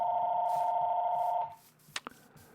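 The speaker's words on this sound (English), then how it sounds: "And the phone is ringing." An old telephone in a video game rings with a sustained electronic trill that cuts off partway through, followed by a couple of short clicks and a faint tone.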